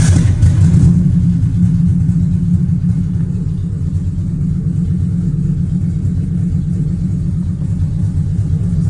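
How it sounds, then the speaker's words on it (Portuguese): A Volkswagen Beetle fitted with a Subaru EJ20 turbo engine rumbles loudly at a steady, slightly lumpy idle, close by with no voices. "Que usa o motor EJ20 turbo."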